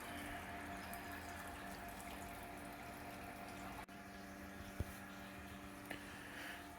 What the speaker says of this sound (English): just filling up the fermenter now